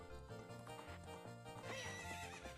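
The horse Epona in the video game Ocarina of Time gives a clear, fairly loud whinny with hoof clip-clops under bright game music.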